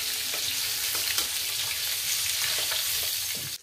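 Garlic sizzling in hot oil in a pan while preparing Assamese suka tenga after fish has been fried, a steady close crackling hiss with occasional stirring scrapes.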